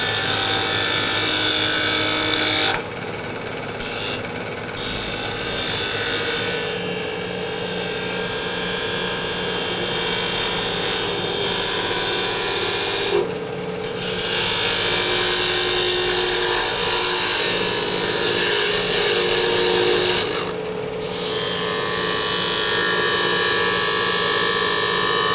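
Steady whirring drone of a wood lathe spinning a dusty cocobolo blank, with a constant motor hum and a few brief dips in level, continuous and fairly close with no talking.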